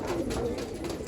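Pigeons coo softly and repeatedly at close range in a pigeon-keeping setting, a low throaty warbling that rolls on steadily with no talk over it.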